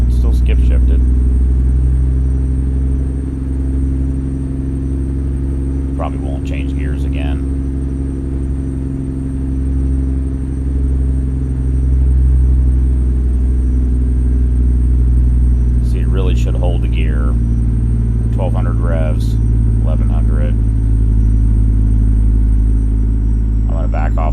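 Heavy-haul truck engine downshifting in American Truck Simulator, a steady deep rumbling drone throughout with brief shifts in tone, while someone talks over it.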